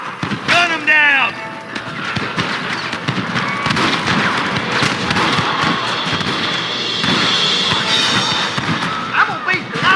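Gunfire in Red Dead Redemption on PC, with repeated shots and bangs over busy action and game noise, while voices talk throughout.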